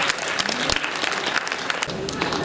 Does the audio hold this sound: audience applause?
yes